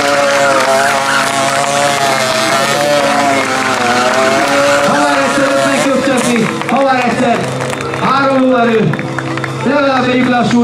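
A stunt motorcycle doing a tire burnout at a streetfighter show, its engine revving loud and close with squealing rubber, under excited announcer commentary in Hungarian and crowd noise.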